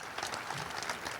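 Brief burst of audience applause for Gene, a dense patter of clapping from a crowd, moderately distant and fairly quiet.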